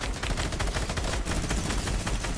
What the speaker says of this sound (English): Yeah, mini guns can be so effective.